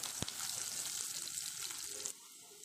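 Diced mini pumpkin sautéing in a pan for poriyal, a soft continuous sizzle with a brief knock near the start, dropping quieter at the end.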